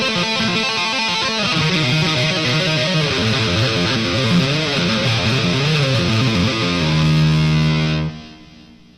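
Rapid double-tapped electric guitar lick in the style of a rock guitar solo, with a distorted, effects-laden tone; a dense, steady stream of fast notes that holds loud, ending on a sustained note before cutting off.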